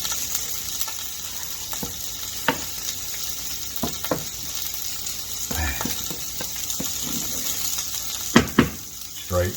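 Food stirred around a hot oiled pan for breakfast cups, steady sizzling frying throughout with scattered scraping and clinking hits from a utensil, fairly close.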